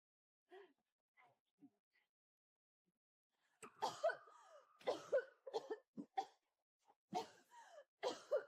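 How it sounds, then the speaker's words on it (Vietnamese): A mother coughs repeatedly in a poor rural home, a few soft coughs at first and then a run of loud, harsh, closely spaced coughs. "Mẹ ho thế này rồi."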